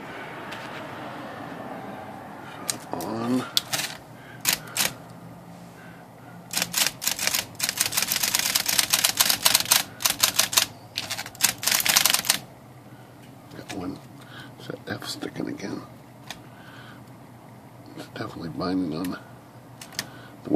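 A pink Smith Corona electric vintage typewriter snaps through rapid bursts of type bar strikes, with a dense, loud run in the middle and scattered clacks before and after, close up, with a voice talking between bursts.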